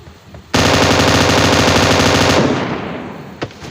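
An M249 machine gun fires a loud, continuous burst of about two seconds in a video game, close and rapid, then trails off, with one more single shot shortly after.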